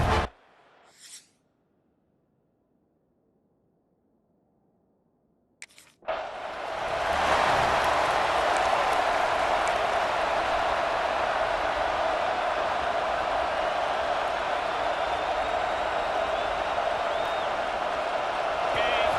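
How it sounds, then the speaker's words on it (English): Stadium crowd in EA Sports College Football 26 during a Georgia vs South Carolina game: near silence with brief bursts, then a broad, loud roar rushes in and holds steady to the end. "This crowd trying to show them what it's going to be like all day in this house."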